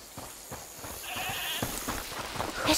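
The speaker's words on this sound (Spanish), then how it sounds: "ahí está la cabra" A goat bleats in the video game A Plague Tale: Requiem, a short, thin cry rising out of an ambient game soundscape with soft, regular footsteps-like thuds beneath it.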